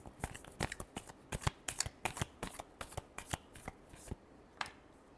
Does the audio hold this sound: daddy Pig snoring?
no